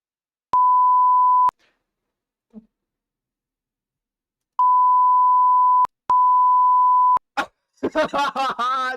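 Steady pure-tone censor beeps sound three times, each about a second long, separated by silence. A voice speaks briefly just after the last beep.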